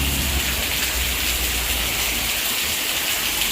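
Heavy monsoon rain pours down with strong wind, a dense, continuous hiss of water striking the ground and surfaces, steady and loud with no voices.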